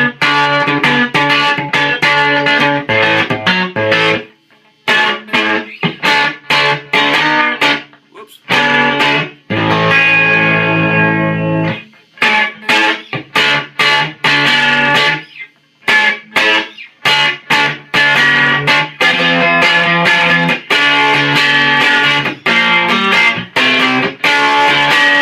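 A cigar box guitar plays through a heavily distorted tube amp set to about 7, gritty chords and choppy riffs with short pauses, loud and up close.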